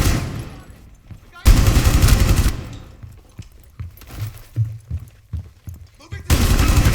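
Gunfire in a PC video game, played with a cheap gaming mouse, comes as loud bursts of rapid automatic shots separated by quieter stretches with scattered single shots, close and prominent.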